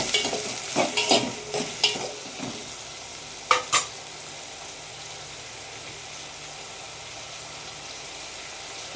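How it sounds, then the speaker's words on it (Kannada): Cut ridge gourd pieces are stirred in a frying pan for sambar, with a soft sizzle underneath and several sharp scraping strokes of a spoon early on, then two more near the middle before the pan settles to a quiet hiss. "ಆಮೇಲೆ ಕಟ್ ಮಾಡಿರೋಂಥ ಹೀರೆಕಾಯಿ ಹಾಕ್ಕೊಳ್ಳಿ."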